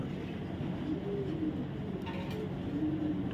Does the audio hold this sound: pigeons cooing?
yes